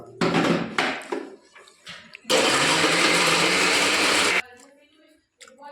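A mixer grinder purees tomatoes with a little water, starting with a couple of short pulses and then running in one loud continuous whirring burst for about two seconds before stopping.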